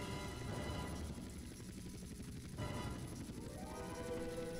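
A helicopter flying through outer space in the video game GTA San Andreas gives a steady, loud, droning rotor and engine wash that stays constant throughout.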